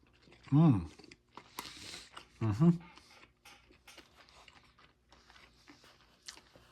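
Close crunching bites of a crunchy Japanese ration snack with sesame seeds and seaweed, two louder bursts of chewing with quieter mouth noises and faint crackles in between.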